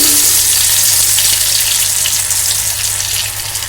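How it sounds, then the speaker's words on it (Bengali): Dhoka lentil cakes for a vegetarian curry frying in hot oil, a loud, steady close-up sizzle with dense crackling that holds throughout and eases slightly near the end, no voices. "এবার দেখুন একটা করে ধোকা কিন্তু আমি এই তেলের মধ্যে ছেড়ে দিচ্ছি"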